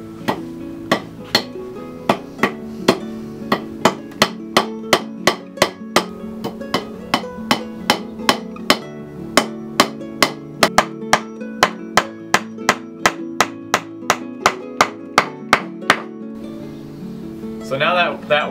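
Nails being hammered into a wooden worm composting bin, a steady run of sharp, close hammer strikes about once or twice a second throughout, over a faint low background hum.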